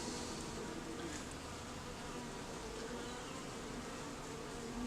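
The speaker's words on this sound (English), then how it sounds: "There's some bees in there" Bees drone in a beehive during an inspection in an Alaskan rainforest, a dense, steady buzzing swarm that holds constant throughout, faint and close with no voices.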